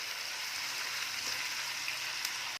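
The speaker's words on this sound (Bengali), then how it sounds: "অল্প একটু নুন দিয়ে দিচ্ছি যাতে পেঁয়াজটা একটু তাড়াতাড়ি নরম হয়ে যায়।" Onions with a little salt frying in a pan for Kolkata-style ghugni, giving a steady, close, even sizzle throughout with no talking.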